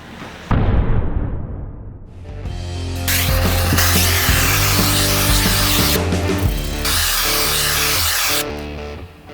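A torch burns the surface of a carved wooden Punisher skull for an epoxy-inlay end table, giving a steady roaring hiss with some clunks, running loud and continuous for several seconds with brief breaks.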